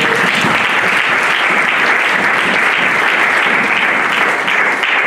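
A church congregation at a Sunday service breaks into loud, sustained applause and cheering, steady dense clapping filling the whole stretch without a break.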